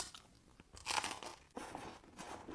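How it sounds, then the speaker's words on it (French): Crispy fried Algerian pastry topped with pistachio shards gives several close, quiet crunching bites and chews in an uneven rhythm, with no talk. "C'était parfaitement croustillant sur l'extérieur. La pâte, elle est bien frite."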